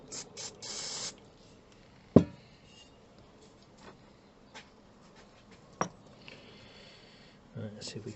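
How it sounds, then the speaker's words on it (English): Short hissing bursts of contact spray on Mercedes SL number plate lights, a few close together at the start and one more at the end, with faint clicks and taps between. "Give it a bit of spray"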